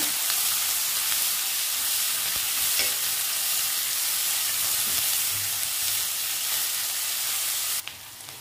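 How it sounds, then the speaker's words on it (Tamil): Sliced onions frying and being stirred in a pan for a village-style chicken curry, a steady loud sizzle and hiss with occasional scrapes of stirring throughout, no voices. "அதை இதில் சேர்த்துக்கலாம். இதை நல்லா வதக்கி எடுத்துக்கோங்க."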